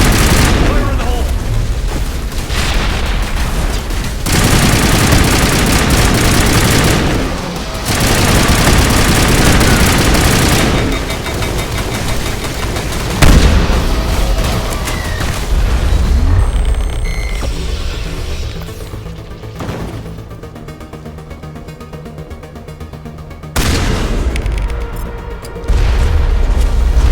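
Grenade blasts and gunfire in the video game Mass Effect 1, with dense, loud bursts of booms and rapid shots in long stretches, broken by brief lulls and a quieter, sparser passage, with a voice speaking at times.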